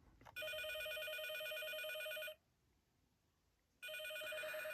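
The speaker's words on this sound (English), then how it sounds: "there's a button on the side here you can push to make it ring" An American Girl doll's toy telephone bell rings in a steady electronic trill, stops for about a second and a half, then starts trilling again, clear and close.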